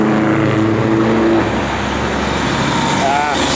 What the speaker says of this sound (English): sorry about the traffic here.